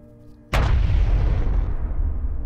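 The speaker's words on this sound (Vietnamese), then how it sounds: "Một tiếng nổ bùm to đến độ muốn rung chuyển cả lòng đất" A single loud explosion boom from a Vietnamese horror audio drama bursts in suddenly after a quiet stretch, then rolls into a heavy, sustained rumble that fades only slightly.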